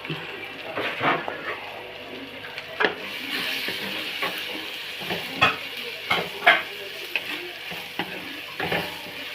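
Turmeric and coriander powder frying in a pan, a steady close sizzle broken by repeated sharp scrapes and clinks of stirring.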